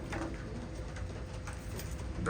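Racing pigeons coo softly inside a loft, low murmuring calls blending into a steady, noisy indoor background.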